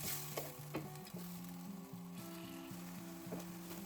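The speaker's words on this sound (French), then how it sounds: "Laissez mijoter jusqu'il absorbe tout l'eau." Sauce seasoned with cumin bubbling and sizzling in a pan, a quiet steady simmer with faint clinks and a stirring scrape, no voices.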